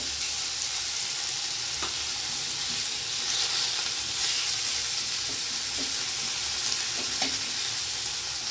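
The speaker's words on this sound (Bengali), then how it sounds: "অল্প পেঁয়াজ কুচানো আগে দেবো আলুর সঙ্গে ভাজার জন্য" Potatoes and a little chopped onion fry in a small amount of oil, a steady bright sizzle and hiss with occasional soft stirring knocks, close and even throughout with no talking.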